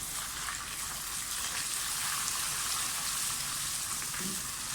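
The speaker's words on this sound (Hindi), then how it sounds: "अच्छी तरह से फ्राई कर लें प्याज को" Onions fry with garlic ginger paste in a pan, a steady close sizzle and crackle with no break.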